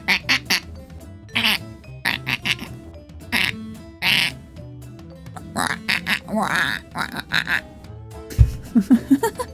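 A voice imitating a duck, a run of nasal quacks in short bursts mixed with talking and laughter.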